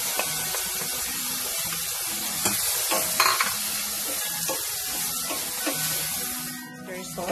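Beef stir-fried with garlic and mushroom sizzles steadily in a hot pan, with a utensil scraping and stirring through it in irregular strokes, close and fairly loud throughout.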